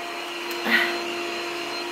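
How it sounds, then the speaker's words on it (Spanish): A household vacuum cleaner runs steadily in another room of a home, a continuous faint motor hum and whine at constant level, with no talking. "se está escuchando mi aspiradora desde aquí"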